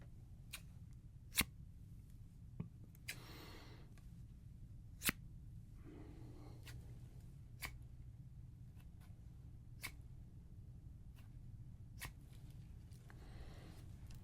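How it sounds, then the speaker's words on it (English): Sharp, isolated snips of scissors cutting, irregularly spaced over a quiet background, with a few soft rustling passes between the clicks. "I have some scissors."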